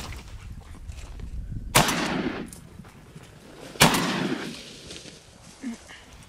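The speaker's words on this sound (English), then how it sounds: "Shoot him, Claudio." Two loud shotgun blasts ring out during a duck and goose hunt, a couple of seconds apart, each echoing away across open ground, with faint distant calls in between.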